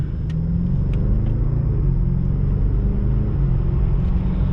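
A 2014 BMW 650i Gran Coupe with a twin-turbo engine and 100k miles accelerates from inside the cabin, a steady deep engine drone rising smoothly through the gears with no speech.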